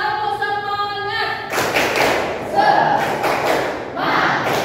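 A school class does a rhythmic spirit clap: after a short spoken lead-in, the students clap in loud, punchy bursts of patterned beats while chanting along together.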